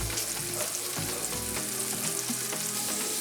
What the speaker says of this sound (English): just let them saute on each side for about 2 to 3 minutes so they get that nice crispy